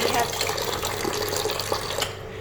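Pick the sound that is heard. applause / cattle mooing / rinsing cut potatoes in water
rinsing cut potatoes in water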